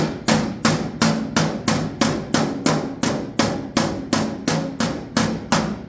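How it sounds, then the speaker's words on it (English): Steady, rhythmic taps of a flat hammer on a dented metal panel during dent repair, about fourteen sharp ringing strikes evenly spaced, close and fairly loud. "Keep that hammer, that flat hammer, nice and flat as you tap it."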